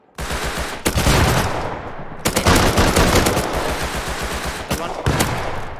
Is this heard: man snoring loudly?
no